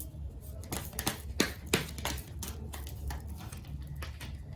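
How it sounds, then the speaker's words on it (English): Crisp papery flicks and riffling taps come in quick irregular bursts as tarot cards are shuffled by hand close by, with no voices. "Let me give my cards a shuffle again."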